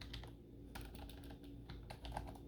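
Steady computer keyboard typing while card sale details are entered, a close run of quick key clicks with brief pauses and no talking.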